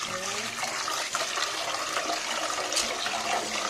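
Rice being washed in water, with running, splashing water that stays steady and fairly close throughout.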